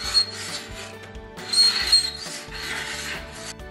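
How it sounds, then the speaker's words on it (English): A carbide scraper works lacquer off a wooden cabinet door from a vintage china hutch, giving repeated close, rasping scrape strokes in an uneven rhythm, each pull rising and fading with no talk. "For the first time ever, I am using a carbide scraper."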